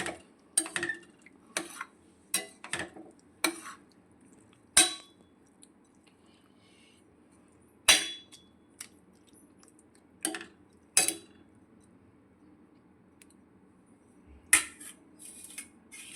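A spoon scrapes and clinks against a pan while chicken liver fry is stirred, sharp metallic taps arriving irregularly over roughly a dozen hits with quiet gaps between.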